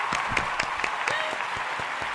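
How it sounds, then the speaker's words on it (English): An audience applauds guest author Tyree at a talk show taping, a steady stretch of clapping with a few sharper claps on top, and speech is tagged in the mix. "Let's give a round of applause for Mr."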